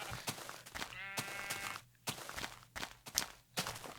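A Minecraft sheep bleats once in a wavering cry amid quick game footsteps and clicks, fairly close and clear with no talking.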